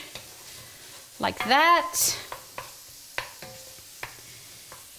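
Onions and garlic stirred in a pan over high heat for red Thai curry, soft sizzling beneath a short spoken phrase, with a few distinct spatula clicks against the pan.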